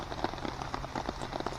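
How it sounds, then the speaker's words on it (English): Rain falls on a tarp strung up on a hiking trail, making a steady, dense patter of close drops with no talk. "waiting to see if the rain's going to stop"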